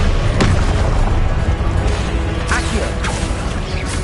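Confringo spell explosion in the Hogwarts Legacy video game, sharp booms and bursts in a busy spell-casting duel, with crackling impacts and shouted incantations around them.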